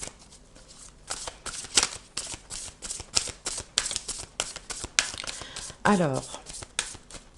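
Tarot cards being shuffled close up, a run of crisp riffling bursts with irregular rhythm, while someone speaks French briefly over them.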